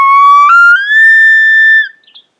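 A Rocky Mountain diaphragm call imitates a bull elk bugle: a clear whistling tone that starts low, climbs in a step and slides to a sustained high peak, then breaks off with a short fading chirp; loud and close.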